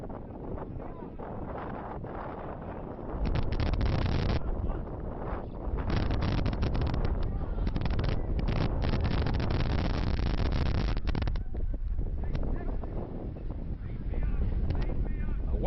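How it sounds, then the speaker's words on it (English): Gusty wind buffets an open microphone on a windy South Florida morning at an outdoor soccer match, a loud broadband roar that surges and drops, heaviest through the middle and easing briefly toward the end. "A windy morning in South Florida"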